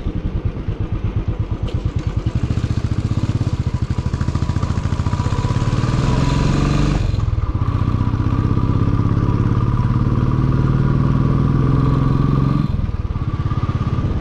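A motorcycle engine labours loudly and steadily while riding uphill on a ride toward Matheran, its rumble rising in pitch as the rider revs through gears, with a brief dip near the seventh second and another near the end.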